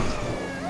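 A police car siren in the GTA 5 video game rises and falls continuously, loud and steady throughout a brief stretch with no talking.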